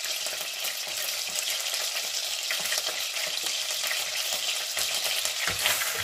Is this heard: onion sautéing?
yes